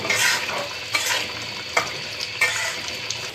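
A spoon stirs sugar into dhoka curry made from flour in a pan, scraping in several distinct strokes over a soft, steady sizzle, close and clear with no talk.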